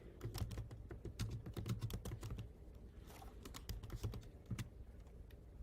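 Rapid clicking of a computer keyboard as a Google search is typed, close and steady runs of keystrokes with brief pauses, no talk.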